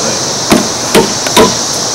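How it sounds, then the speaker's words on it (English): Three sharp hammer blows drive a nail into wood, spaced roughly evenly at close range, each a crisp percussive strike with brief ringing over a quiet background. "Hammer all the way in."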